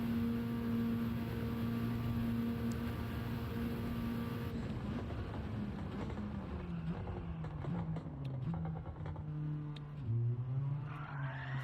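A car spins out in the racing game Gran Turismo 7, with a steady engine drone and tire noise whose pitch sags and wavers, then picks back up. The sound is continuous and fairly loud throughout, with no talking.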